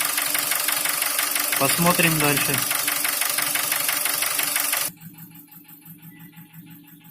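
A steady rattling knock from a Nissan QG18DE engine settling back toward idle, continuous under a man's brief speech, then cutting to a much quieter, thinner background.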